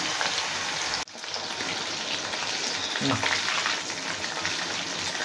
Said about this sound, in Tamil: கொஞ்சம் கொஞ்சமாக போட்டு ஃப்ரை பண்ணி எடுத்துடலாம்.